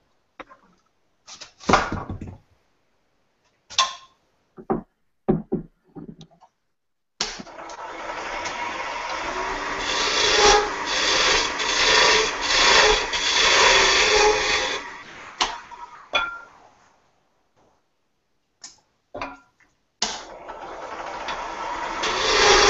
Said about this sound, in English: I'll bring it down with the carbide the rest of the way